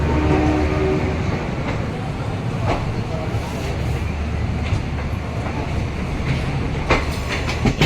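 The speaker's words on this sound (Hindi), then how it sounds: "हमारी ट्रेन निकल रही है अभी प्लेटफॉर्म नंबर 2 से" The Mahamana Express pulls out of platform 2 at New Delhi railway station, a loud, close rumble with rhythmic clicking of wheels over rail joints and occasional metallic clanks and squeals as it gathers pace.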